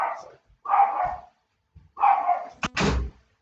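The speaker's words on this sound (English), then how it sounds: "Yeah, you can ignore my dog." A dog indoors barks a few times in short separated bursts, close and fairly loud, with a brief yip between.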